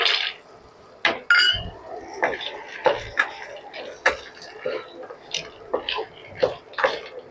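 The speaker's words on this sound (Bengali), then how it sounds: "কড়াটা খুবই গরম হয়ে গেছিলো তো আমি এই মাখনাটা দিয়ে দিচ্ছি" Puffed fox nuts (makhana) tumble into a very hot buttered kadai, giving a run of light clinks, taps and rattles of pan and utensil, close and irregular, with no talk.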